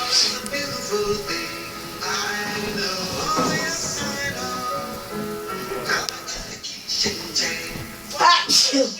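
A sneeze cuts through an indoor scene where people keep chatting throughout, a short sharp burst partly buried under the voices.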